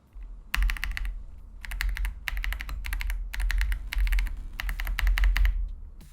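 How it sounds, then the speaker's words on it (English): Soft, muted keystrokes on a budget gasket-mount mechanical keyboard with internal foam, in quick bursts of typing with short pauses between runs; close and steady, with no voices. "the typing feel is quite good thanks to the gasket type assembly and the internal foam"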